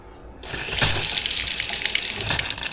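Water runs steadily from a sink faucet in a newly built holiday home as the plumbing is first filled, starting after a brief hush and gushing continuously with a few sputters from air clearing the lines.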